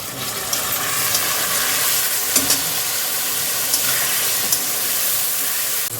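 Tomatoes frying in a pan during a restaurant-style tadka; continuous close sizzle and hiss with intermittent scraping stirs and light clicks of the spatula, no voices.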